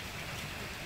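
Steady rain falls around an outdoor Vietnamese barbecue where octopus and beef skewers are being grilled, a dense, even hiss of drops on surfaces running throughout at moderate level with no voices.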